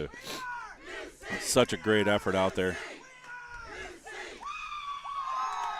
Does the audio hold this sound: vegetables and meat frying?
no